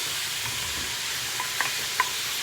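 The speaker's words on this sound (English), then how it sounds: "And I'm going to add in my mushrooms, sliced mushrooms, and the broccoli." Sliced mushrooms and broccoli sautéing in a deglazed pan for beef and broccoli, a soft continuous sizzle with a couple of light utensil taps toward the end.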